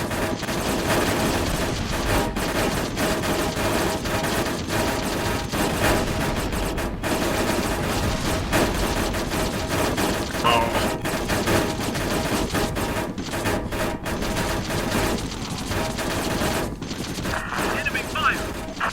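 Enemy gunfire during a combat mission in the video game Air Conflicts Vietnam, a continuous dense roar of rattling fire and battle noise that runs steadily throughout without pause.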